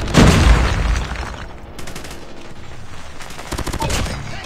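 Thermite grenades and rapid gunfire in a Call of Duty Mobile hardpoint match, a loud burst opening into dense, crackling volleys of shots that recur in clusters throughout.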